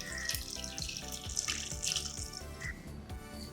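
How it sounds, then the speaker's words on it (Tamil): Water pours into a cooking pot of washed taro root, a steady splashing stream with small irregular bursts, close and fairly loud, no talking. "இந்த கிழங்கு முழுகிற அளவுக்கு தண்ணி சேர்த்துக்கலாம்"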